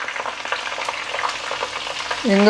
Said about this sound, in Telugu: వేడికి చక్కగా మనకి ఎండుమిరపకాయలు వేగిపోతాయి